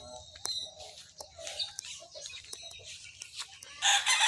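A rooster in a small backyard chicken coop in the Philippines crows near and loud, with clucking from other fowl between the calls and a strong crow rising at the end.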